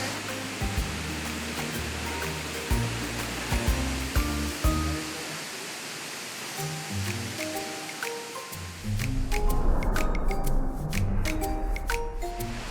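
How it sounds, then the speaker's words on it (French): Waterfalls at Cascadas de Agua Azul in Mexico, a steady loud rush of cascading water that grows heavier and closer partway through, with no talking. "je sais pas si vous entendez bien parce qu'il y a des cascades partout autour"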